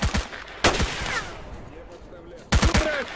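Rifle fire in the S.T.A.L.K.E.R. Old Story mod: short bursts of sharp, loud shots at the start, a single crack near the middle, and another quick burst at the end, with quieter game ambience in between.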